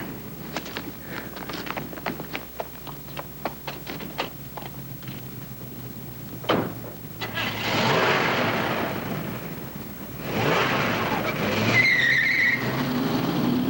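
A car pulls away with a brief tire squeal over faint street ambience, its engine rising loudly twice as it accelerates off, set in a 1940s-style radio detective drama.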